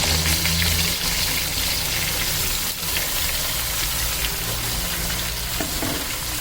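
Potato slices for aloo ki katliyan frying in oil in a pan, a loud, continuous sizzle with occasional stirring scrapes and no talk.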